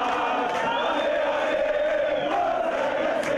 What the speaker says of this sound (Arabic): خرجت الجماهير هاتفه باسم تونس